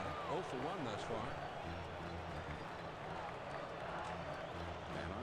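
Big baseball stadium crowd with a steady, loud roar of voices and scattered cheering, a continuous wash of noise filling the ballpark.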